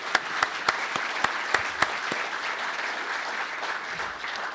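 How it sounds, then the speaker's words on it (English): Applause from a business-forecast forum audience welcoming panelists to the stage, opening with several sharp, distinct claps over a dense wash of clapping, then tapering to a softer, thinning patter toward the end. "please join me in a round of applause"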